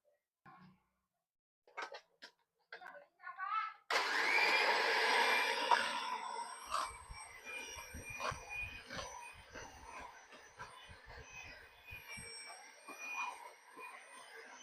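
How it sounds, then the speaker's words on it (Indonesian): An electric hand mixer whirs into nastar cookie dough after a few short clicks and taps, a loud buzzing start that settles into a steady, lighter whine with rattling against the bowl. "Oke, mari kita mixer."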